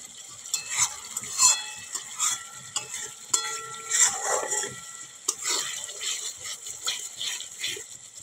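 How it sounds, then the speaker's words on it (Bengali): A spice paste for a sea fish curry is stirred and fried in oil, producing a soft sizzle with intermittent scraping strokes and clinks of a spoon against the pan, close and fairly quiet. "দেখো মশলাটা ভাজা হয়ে এসছে। আর একটু ভাজবো"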